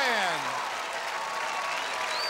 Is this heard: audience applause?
yes